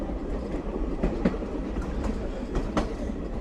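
A scenic railway train rolls along the Lehigh Gorge, heard from the open rear deck of a caboose: a steady rumble with periodic clickety-clack wheel beats over rail joints, close and continuous.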